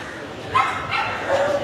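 Dog at a large dog show in Sri Lanka gives a few short barks and yips, close and fairly loud, with people talking nearby.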